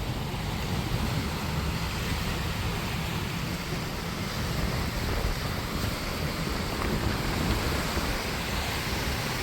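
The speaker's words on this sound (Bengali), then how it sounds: "দেখেন কি ঢেউয়ে, মানে কোনো প্যাসেঞ্জার বোট এই অবস্থায় চলতে পারবে না" Rough waves churn on the Raimangal river in the Sundarbans, a broad continuous roar of surf and wind buffeting the microphone, steady and loud with no voices.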